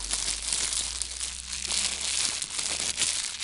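Plastic crinkles and rustles continuously up close, a crisp crackling texture that keeps going without pause, fairly soft, no voices.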